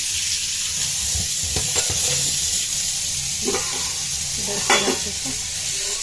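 Dosa batter sizzles on a hot pan in a home kitchen, a loud, continuous hiss at close range with a few brief scraping and clattering touches.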